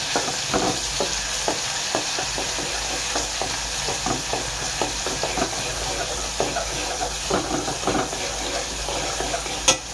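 Ground masala paste (goda masala vatan) frying in hot oil for a rawas fish curry: a steady close sizzle with frequent scraping stirs, a few faint voices in the background.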